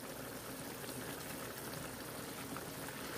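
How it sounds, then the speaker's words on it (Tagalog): Pork adobo broth with pineapple reduces in a pot, giving a constant dense bubbling and hissing simmer that stays even throughout, without talk. "iigahin po natin yung ating sabaw"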